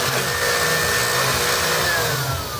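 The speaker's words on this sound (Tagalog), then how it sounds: "Bukuhan natin ang blower. Ayos, ha? Para mabilis matuyo." Air blower running steadily at close range, a loud continuous whoosh with a faint whine, used to dry the inside of a SAKURA 5023B amplifier during a repair, with no talking.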